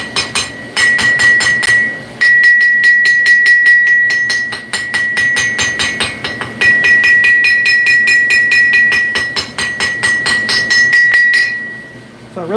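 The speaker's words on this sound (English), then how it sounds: "as I'm hammering on different parts of the anvil" Rapid, ringing hammer blows on cooling metal on an anvil in a forging workshop, a bright metallic clang repeated in quick bursts with brief pauses between runs, close and loud.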